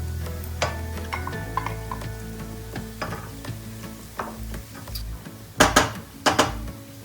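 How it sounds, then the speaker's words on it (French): Onion and bell peppers stirred in a frying pan, with scraping spoon strokes and clatter over a steady sizzle and a low hum, a few louder knocks near the end. "Je mélange bien"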